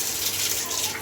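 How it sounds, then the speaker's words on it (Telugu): Rinse water is poured off toor dal in a kitchen, a brief close gush and trickle of running water lasting about a second. "ఇప్పుడు 2 కడిగేసుకుందాము శుభ్రంగా 2 సార్లు"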